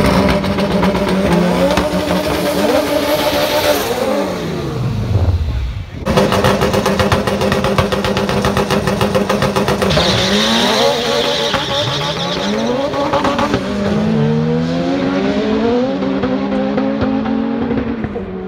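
A 1000 hp Honda Civic hatchback race car runs hard at an Import vs Outlaws drag event, its engine loud and close with rising revs, gear changes and tire squeal, some crowd voices faintly underneath.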